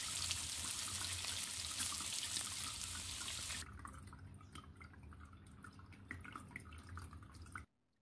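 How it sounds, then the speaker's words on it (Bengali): Water poured into a Bengali-style chicken curry, a rushing splash that drops to a softer trickling and bubbling halfway through before cutting off at the end, no voices. "এইবার আমি জল ঢেলে দেবো।"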